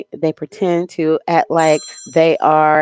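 A phone rings with a steady, bell-like electronic tone that runs beneath continuous close talking for most of the moment.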